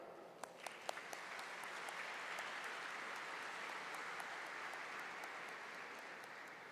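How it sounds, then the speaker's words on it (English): Audience at a university ceremony in Qatar gives a round of applause, faint, even clapping from a large hall that stays steady, with a few sharper claps near the start. "Please join me for a big round of applause for Madam Natra"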